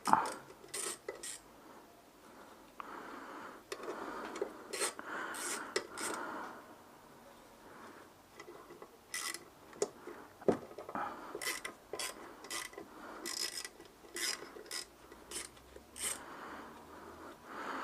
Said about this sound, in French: Donc il faut retirer les 6 vis de 10.